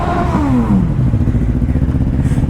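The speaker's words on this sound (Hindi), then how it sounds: "ये देखो 1000 की आवाज़, 1000 चीख रही है" A BMW 1000 motorcycle engine screams as it revs hard, with a rising and falling high-pitched whine over a gritty, clattering mechanical roar. The sound is loud and close and continues without a break.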